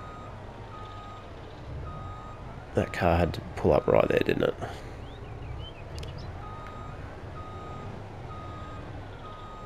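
Truck reversing beeps in Farming Simulator, a regular series of evenly spaced electronic tones continuing behind a low engine drone, with someone talking over the middle stretch.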